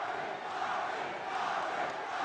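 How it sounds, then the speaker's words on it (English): Crowd at an armed forces boxing match cheering during a fierce exchange of punches, a steady, broad roar from a distance with no clear talk on top. "And listen to the crowd. They love it."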